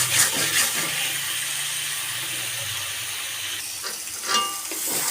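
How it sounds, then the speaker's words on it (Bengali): Spice masala frying for a turnip fry in a pan, giving a steady bright sizzle with a few scrapes and stirs, close and moderately loud, no talking. "তারপরে এটাকে আমি ভালোভাবে কষাবো।"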